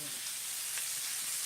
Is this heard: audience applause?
no